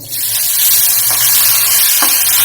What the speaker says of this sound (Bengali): এবার এতে আমি আমার যে গ্রেট করে রাখা মূলটা, এটা কিন্তু সম্পূর্ণটা ঢেলে দেব